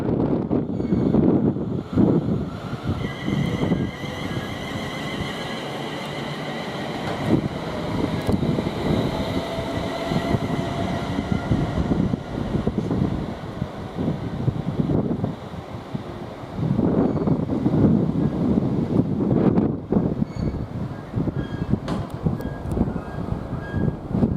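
A train passing Nuneaton station on the West Coast Main Line, a steady rumble with rising and falling surges and windy, gusty noise across the pass, fairly close and loud throughout.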